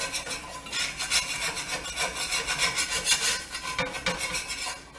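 A utensil scrapes and rubs against the bottom of a pot of vegetarian chili cooked without oil, dislodging food stuck to the surface, in a steady rasping, back-and-forth rhythm that is close and fairly loud, with no talking.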